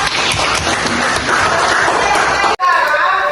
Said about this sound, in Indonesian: Tepuk tangan dulu untuk Sandra